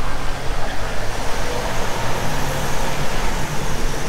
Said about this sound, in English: because it's early afternoon here, we have a lot of cars